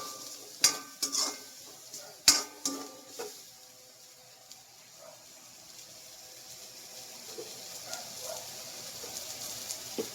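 Onions being sautéed in a pan while cooking laing, with a few sharp utensil clanks and stirring scrapes at the start, then a soft, faint sizzle carrying on alone.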